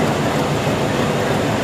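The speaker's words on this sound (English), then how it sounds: "Nice sight, a light rain here." Light rain falling at Ooty railway station as a constant, even hiss with a soft rumble beneath, unbroken and close.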